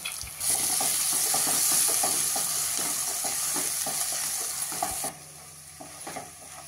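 A ground paste of sesame, peanuts and gram flour sautés in hot oil for a dhaba-style garlic fenugreek dish, a dense close sizzle with rhythmic stirring scrapes that drops abruptly quieter near the end.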